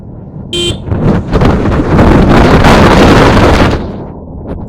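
Strong wind roars loudly and buffets, swelling to a peak and then easing off, with a short electronic beep near the start, heard on a motorbike ride through the Valparai ghat road.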